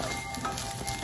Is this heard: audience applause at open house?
no